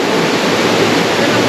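A waterfall in the Smoky Mountains rushes in a loud, steady, broadband roar filling the whole moment, with no breaks or voices.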